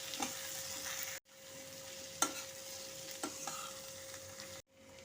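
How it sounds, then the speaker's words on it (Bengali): Potatoes, onion, garlic and green chilli fry with ground spices in a pan, giving a steady close sizzle broken by scraping stirs at regular intervals, with two brief drops to near silence; no one speaks. "এখন সমস্ত মশলাগুলোর সাথে আলু পেঁয়াজ রসুন লঙ্কা ভালো মতো করে কষে নেব।"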